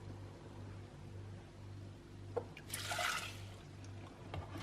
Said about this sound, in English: We'll add in half a cup of your milk of choice